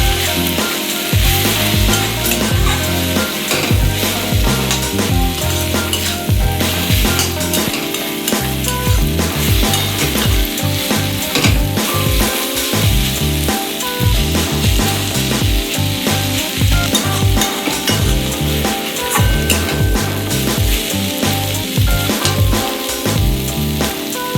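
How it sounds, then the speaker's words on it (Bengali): Spice paste frying in a pan for a drumstick-leaf (sajne shak) fry dish, a loud, steady sizzle with continual stirring and scraping strokes throughout, no voices. "বন্ধুরা আমি একটু ভেজে নেবো"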